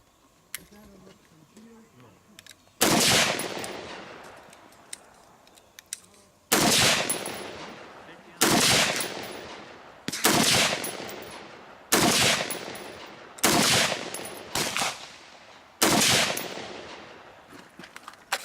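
An AR-15 pistol fires at an outdoor range, eight loud sharp shots spaced a second or two apart, each with a ringing decay, following quieter handling noise at the start.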